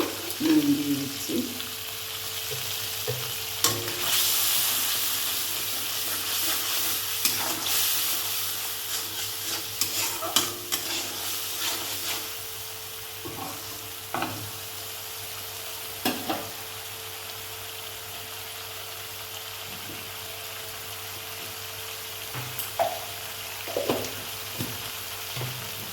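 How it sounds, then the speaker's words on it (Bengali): Masala spices fry and sizzle steadily in a pan for Bengali vola fish curry, with repeated scraping stirs and occasional clinks of the spoon against the pan. "এবার দেখুন মশলাটা কষানো"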